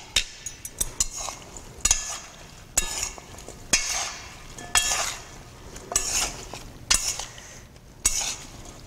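Chopped fruit and vegetables are lightly tossed together in a bowl, with close, rhythmic scraping strokes about once a second and faint utensil clinks between them.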